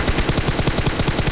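Rapid automatic gunfire in a battle royale video game, a dense continuous burst of shots, loud and close, filling the whole moment with no talking.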